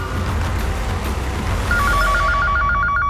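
Telephone ringing, an electronic bell-like trill that starts partway through and repeats in a rapid pulsing pattern over a dense background of noise.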